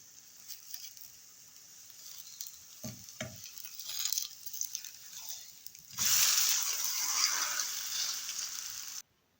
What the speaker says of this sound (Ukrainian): і смажимо на середньому вогні